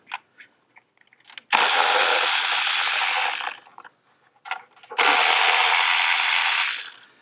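A ratchet tool whirs loudly in two sustained bursts, each about two seconds long, while the coil cover is taken off a 2004 Acura engine, with faint clicks and small knocks before and between them.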